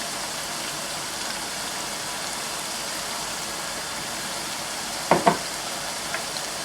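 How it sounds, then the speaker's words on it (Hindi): Chicken keema frying on high flame in a handi gives a steady, even sizzle throughout, with a couple of brief clinks of a utensil near the end. "इसकी अच्छी तरह यहाँ पर हमने भुनाई करनी है। आधा मिनट दें, हाई फ्लेम कर लें"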